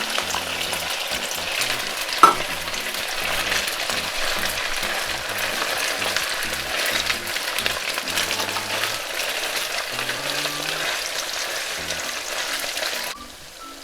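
Marinated pork drops into very hot oil for lo mein and fries with a loud, dense, continuous sizzle that holds steady close up, with a brief clank near the start and no talking.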